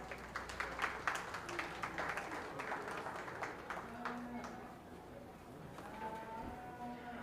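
An audience at a county fair open beef show claps in a steady scattered round, moderately close, while an announcer's voice talks over the ring.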